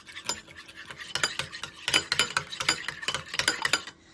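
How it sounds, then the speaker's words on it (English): A utensil stirs food in a dish before microwaving, giving quick repeated scraping and clinking taps in an uneven rhythm, close and alone with no talking. "And stir it thoroughly like this."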